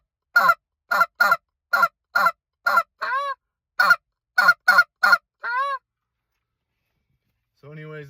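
A goose call blows a series of short, sharp spit-note honks in quick rhythmic bursts, with a few longer drawn clucks between them, close and clear against silence.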